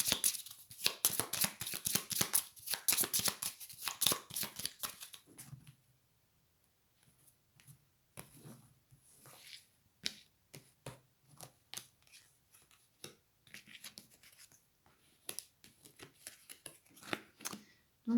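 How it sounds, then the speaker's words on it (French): Playing cards shuffled by hand for a tarot or oracle reading, a dense run of crisp riffling clicks for the first five seconds, then quieter scattered shuffles, taps and card handling, close and alone without speech. "Donc concentrez-vous et puis je vais reprendre des cartes."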